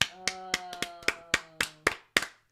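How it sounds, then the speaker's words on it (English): Two people clap their hands at the same moment, giving a series of sharp, loud claps with uneven gaps. A sustained musical tone sounds softly underneath. "How come we clapped at the same time?"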